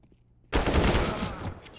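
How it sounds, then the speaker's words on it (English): A grenade blast and gunfire in a Counter-Strike video game: half a second of near quiet, then a sudden loud eruption of rapid shots and explosion noise that holds and slowly eases, with no talk. "This nade, Kobe. It's perfect."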